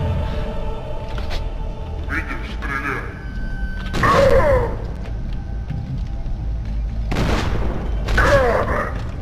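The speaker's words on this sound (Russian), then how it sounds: "Контрольный выстрел в голову из дробовика." Shotgun blasts in the shooter game FEAR 2 during a headshot, sharp loud bursts recurring about every few seconds over a steady low in-game background, with someone talking.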